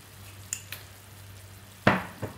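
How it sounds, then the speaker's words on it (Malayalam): Mutton liver fry being stirred in a pan over a soft sizzle, with a few scraping clinks of the spoon and one louder scrape near the end. "നന്നായി ഇളക്കി യോജിപ്പിക്കാം."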